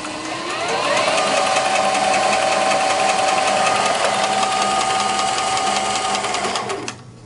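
Sewing machine driven by a speed-modded servo motor runs at full speed, a loud steady mechanical whir and rapid needle clatter that spins up at the start and cuts off abruptly near the end.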